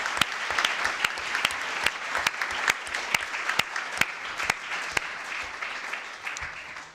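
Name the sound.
audience applause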